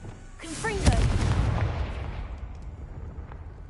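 Confringo explosion spell in a Harry Potter video game, a single booming blast with a rumbling tail that fades over a few seconds, preceded by a brief voice.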